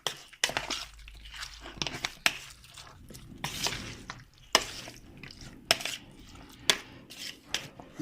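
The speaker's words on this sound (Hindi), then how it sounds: "अब इसको अच्छी तरह मिक्स कर लें।" A spoon mixes chicken curry masala marinade with green chili in a metal pot. The clip holds scraping, stirring and irregular sharp clinks against the pot, close and moderately loud, with no talking.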